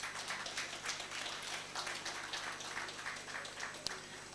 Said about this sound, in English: you should give yourself a round of applause for that